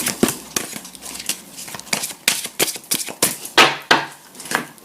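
A deck of astrology cards shuffled by hand, a rapid series of sharp, close riffling and slapping bursts in an irregular rhythm, loud and alone without speech.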